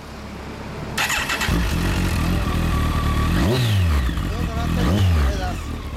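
Engine of a 2006 Kawasaki ZZR1400 (Ninja ZX-14R) fitted with a Yoshimura exhaust, loud and close, starting with a burst then idling and revving twice in rising-and-falling sweeps, with people talking over it.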